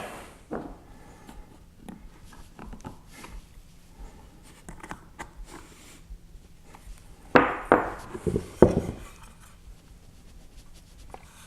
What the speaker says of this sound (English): push them up into the wood, use your screwdriver to really get it in there nice and neat